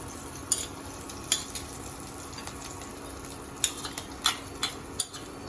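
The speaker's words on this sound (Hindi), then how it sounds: "अब हम इसमें ग्रीन चिली डालेंगे" Green chillies sizzle softly in a kadhai of hot oil for chilli paneer gravy, with scattered sharp clinks of a spoon stirring against the pan, close and without talk.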